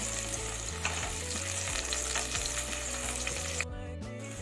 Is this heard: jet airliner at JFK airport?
no